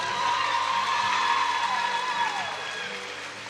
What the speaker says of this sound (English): if you would, a round of applause for the man behind Surge, senior Dontavius Brown